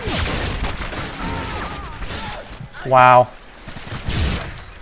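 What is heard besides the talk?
UMP gunfire in video game Call of Duty: Modern Warfare 2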